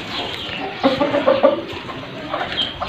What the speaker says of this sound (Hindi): इस मुर्गी ने भी अंडे देने शुरू कर दिए हैं